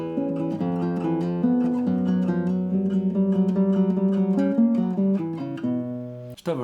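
Classical guitar plays bars 9-10 of Agustin Barrios' La Catedral in the Benites edition, a flowing arpeggiated passage of clear plucked notes over sustained bass, close and alone, ending with a brief noise.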